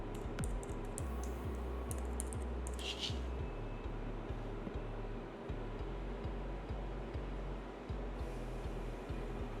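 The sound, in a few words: typing personal information on a computer keyboard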